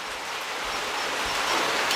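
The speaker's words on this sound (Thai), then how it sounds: "ฝ่าฝนตกขนาดเลย ตกแต่ตกว่าน้ำผมก็ไหล" Heavy rain pours down steadily outdoors, a dense, even hiss of falling water that rises slightly toward the end, with no voices heard.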